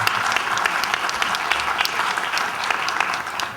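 Steady, dense applause from an audience at a formal commemoration ceremony for Data Protection Day, loud and continuous throughout without pause.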